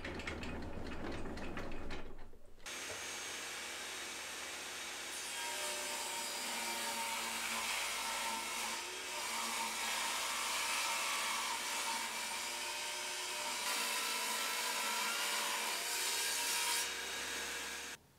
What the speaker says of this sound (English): I'm now going to set up the table saw and get them ripped into strips for the shelves